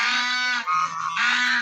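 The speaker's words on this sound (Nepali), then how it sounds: "हाँस हो" Ducks near a lake give a few loud, nasal, honking calls close by, in two long bursts separated by a brief lower call, with no talking.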